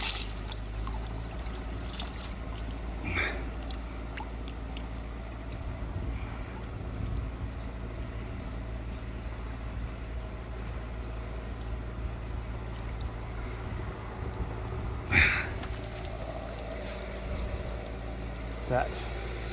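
Pond water flows through a garden hose outdoors, making a faint, continuous rushing wash that runs steadily throughout, with a few soft knocks and light wind.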